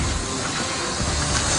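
Steady, loud hiss of steam rising from a heated metal kettle as surrounding puddles boil off, continuous and unbroken with no voices.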